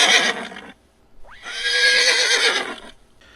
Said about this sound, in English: he sees that the horse was scared of Lucy's gravesite.